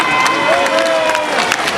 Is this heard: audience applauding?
yes